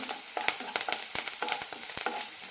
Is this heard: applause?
no